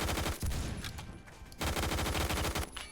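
AUG rifle firing in Roblox Phantom Forces, loud rapid automatic bursts with a brief pause between volleys, dense and continuous, no talking over it.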